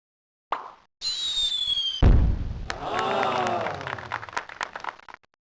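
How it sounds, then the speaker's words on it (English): A fraction firework launching in the 1996 computer game Mighty Math Number Heroes: a short whistle, a thumping launch, then crackling bursts and a rising tone, with cartoonish effects and a brief voice over part of it. "Let's launch a fraction firework"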